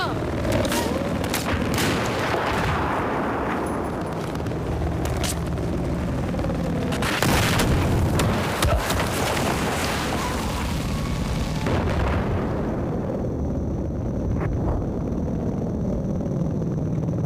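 A grenade blast in Battlefield 4 on the Shanghai map erupts amid a dense wash of gunfire and booming combat, with a sharp burst around the middle and shouting soldiers heard throughout.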